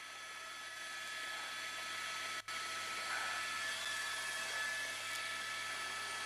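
A police helicopter overhead gives a steady, loud whirring roar that holds evenly throughout, with one brief dropout partway through and no talk.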